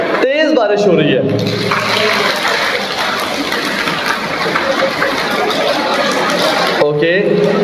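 A large audience rubs and pats their hands hard to imitate heavy rain, a dense, loud, continuous wash of hand noise with murmurs and laughter mixed in, cutting off abruptly at both edges.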